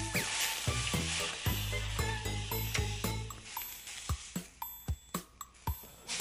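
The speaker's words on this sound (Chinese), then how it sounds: "这个用大铁篦子煎牛排" Steak sizzles loudly on a large iron grill plate, a steady dense hiss broken by sharp metallic clinks and taps of utensils that grow more frequent and distinct toward the end.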